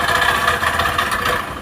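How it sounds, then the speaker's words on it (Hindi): A Hero Passion Pro motorcycle engine idles steadily up close with a fault in its sound, a continuous mid-pitched running note with no talking over it. "इंजन की आवाज़ सुनाई आ रही है"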